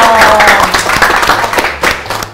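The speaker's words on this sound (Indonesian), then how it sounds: "Tepuk tangan" Studio audience of an Indonesian health talk show claps on the host's prompt, with a loud burst of applause that starts at full strength and slowly thins out.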